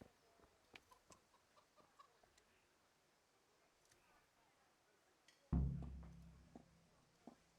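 A chicken in the medieval game Kingdom Come: Deliverance gives faint, scattered clucks against quiet ambience, broken by one sudden loud low thud partway through.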